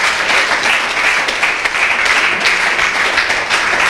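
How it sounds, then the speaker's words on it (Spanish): A church congregation applauds during a Spanish-language worship service, loud close crowded clapping that stays steady throughout with no talk over it. "Denle ese aplauso a Jesús."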